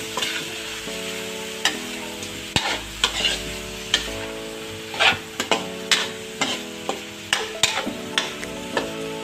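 Bitter gourd being stirred with salt in a pan, a spatula scraping and clacking repeatedly against the metal in an irregular rhythm over a steady sizzle, close and fairly loud with no talk.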